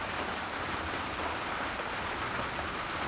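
Steady rain falls outdoors at a tiny cabin, a dense, even hiss of drops with no breaks or voices throughout.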